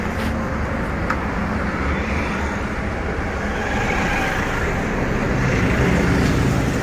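Continuous road traffic noise, a steady low rumble of passing vehicles heard from nearby, without any talking.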